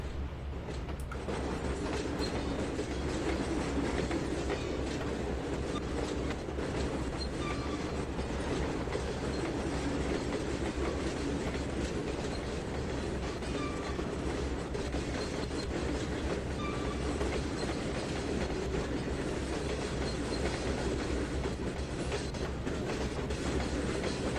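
In the railroad game Trainz 2019, a diesel train hauls cars along a line, a dense continuous roar of engine and rolling wheels with faint clickety-clack, steady and loud throughout.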